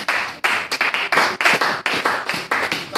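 A church congregation claps together in a lively, rhythmic burst of close, sharp hand claps, steady and loud for a few seconds with no talk over it.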